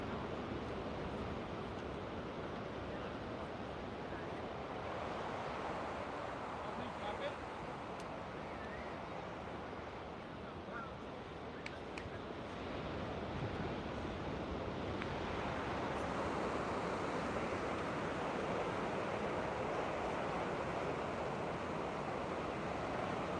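Ocean surf rolls onto the shore in a continuous broad wash, steady and moderately loud, with wind buffeting the microphone and a voice speaking softly over it.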